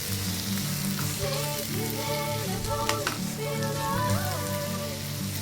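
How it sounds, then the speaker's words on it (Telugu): Ginger garlic paste fries in oil in a pan for an Andhra-style dry shrimp shell curry, giving a continuous close sizzle with bubbling crackles throughout and no talking. "ఆయిల్ కూడా సెపరేట్ అయిపోయింది, అల్లం వెల్లుల్లి పేస్ట్ కూడా మంచిగా ఫ్రై అయిపోయింది"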